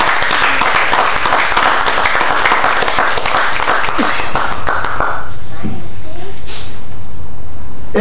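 Church congregation applauding at an evening Bible study service, a dense sustained wash of clapping through the first five seconds that thins and fades, with some voices mixed in.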